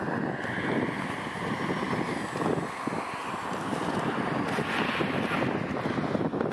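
A North American Robotics Prairie Hawk drone flies steadily, its motor drone carried under heavy wind buffeting on the microphone, holding a constant loud level for several seconds.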